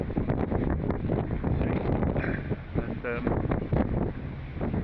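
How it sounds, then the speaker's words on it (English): Strong wind gusts buffet the microphone on a crossing to the Isle of Wight, a loud, continuous rumbling roar that stays close and heavy throughout, with a voice faintly mixed in. "The wind's picking up"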